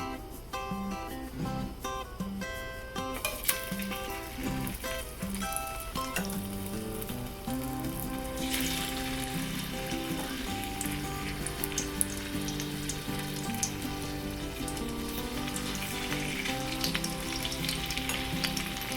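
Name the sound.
Spam frying in a pan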